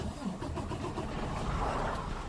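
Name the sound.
2019 Freightliner Cascadia truck engine turned on and idling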